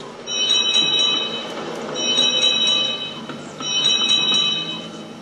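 A bright, clanging train-engine bell from a children's train show rings in three sustained bursts of rapid metallic ding, each lasting about a second, fairly loud and close.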